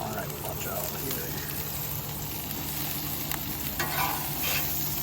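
Brussels sprouts and bacon sizzle and crackle in a hot pan outdoors at a state park campsite, a steady close hiss with occasional scraping stirs, while someone talks quietly in the background.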